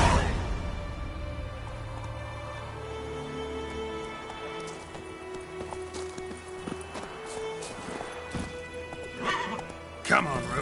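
Roach, a horse in The Witcher 3, neighs and whinnies with clip-clopping hooves, layered over ambient game sound and a light patter like rain, with speech briefly present.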